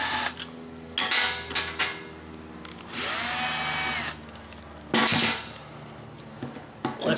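A power driver with a T25 Torx bit whirs in short bursts while window motor bolts are backed out of the door of a 2007-2011 BMW 328i, separated by close metallic clicks and handling clatter.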